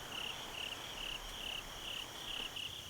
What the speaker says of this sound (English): You can probably hear the crickets. They're a constant chorus now.